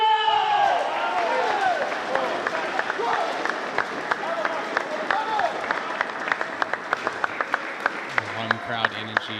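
Crowd at a Major League Table Tennis match between Princeton and Florida, giving applause and cheering that rises and then thins into scattered claps, with the sharp ticks of ball strikes near the end and a commentator talking over it.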